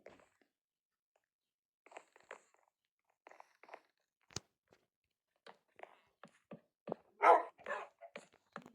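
A puppy being fed gives scattered short yaps and snuffles with a few crunching bites, faint and intermittent, with one sharp louder bark near the end amid quiet gaps.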